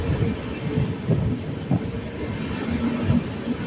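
The New Delhi–Bhubaneswar Tejas Rajdhani passes slowly alongside, a continuous low rumble of rolling rail wagons with faint rhythmic clatter, steady and fairly close.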